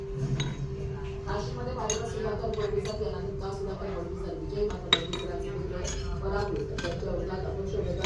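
A small child playing kitchen with toy pots and utensils, making light clinks and clatters of little dishes and spoons close by, under a steady hum and ongoing talk.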